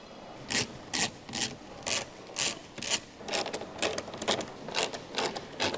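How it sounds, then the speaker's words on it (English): Torx T30 bit ratcheting out underbody shield screws on a Ford Escape, a rhythmic series of about a dozen short scraping clicks at a steady pace, close and fairly quiet. "Use a T30 Torx Bit to remove the underbody shield screws."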